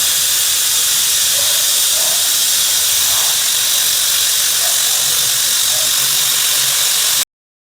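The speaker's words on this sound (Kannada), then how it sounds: "ಲಿವರ್ ಫ್ರೈ ಆಗ್ತಾ ಇದೆಯಾ" Liver frying in a pan with onions gives a loud, steady hiss and sizzle close by that runs without a break until it cuts off abruptly.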